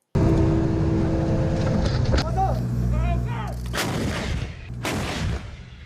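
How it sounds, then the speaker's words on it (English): Taiwan army coastal defense artillery fires several heavy booming rounds in quick succession, each blast loud and close with a rolling echo and whistling debris trailing off, amid rumbling background noise. "Artillery is one of the foundations of Taiwan's army."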